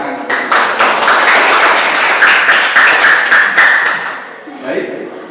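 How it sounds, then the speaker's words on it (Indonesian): A class of middle-school students claps together in a short, rhythmic burst of applause indoors, loud and near, fading out after about four seconds as voices murmur. "Ya, baik, tepuk tangan."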